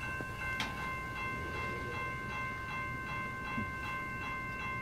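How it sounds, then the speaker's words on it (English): Steady low rumble of a stopped CN freight train with faint rhythmic clacks and a sustained tonal hum, heard from a distance. "CN freight train stopped."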